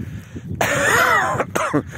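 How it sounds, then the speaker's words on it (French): A man still recovering from Covid clears his throat and coughs outdoors on a farm plot in spring: a quiet start, then one long raspy throat-clearing cough and two short follow-up coughs. "Alors vous voyez je tousse un petit peu encore, hein."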